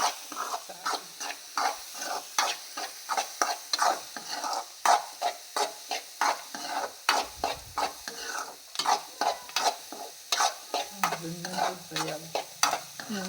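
Chilli flakes and oil frying in a pan for a pasta dish, with a spoon scraping and stirring in a quick repeating rhythm over a soft steady sizzle, close by.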